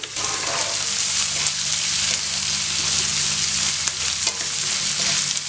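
Carrots, beans and peas sizzle and fry in a pan with onions, a dense steady crackle with occasional stirring scrapes, close and loud throughout with no voices.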